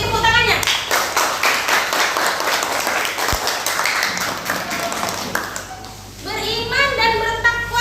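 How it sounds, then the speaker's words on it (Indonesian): Elementary school children clap their hands together in a classroom, a loud rhythmic burst of clapping that fades out, followed by voices talking. "Beri tepuk tangannya"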